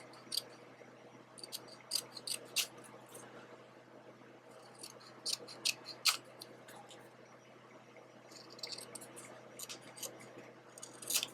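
Scissors snip through sticker paper to trim away a white image border for a journal-tag collage, giving quiet, scattered crisp clicks in short bursts with pauses between, close by in a hushed room.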